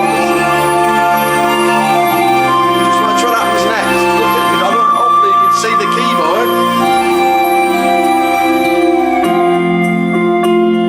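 A Yamaha CSP-275 digital piano plays back a full arrangement of a song, with sustained chords and a shifting melody throughout, while someone speaks briefly over the music.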